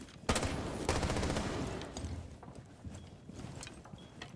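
Repeated gunfire in a Rainbow Six Siege esports match at the BLAST R6 Major Copenhagen, dense bursts of shots and impacts loud at the start, then thinning into scattered shots and footsteps, with no talk.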